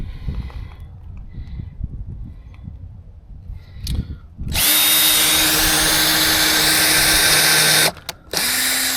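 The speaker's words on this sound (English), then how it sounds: "I need to pre-drill this, so let me grab the drill and we'll do that right now" A power drill pre-drills a hole with a countersink bit in wood for a DIY 4x8 camper build, running loud and close for about three seconds, stopping briefly, then spinning up again after quieter handling noises.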